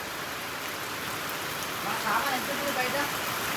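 Steady rain falls through the night, a dense, even hiss of drops on surfaces close by that swells slightly toward the end, with no voices over it.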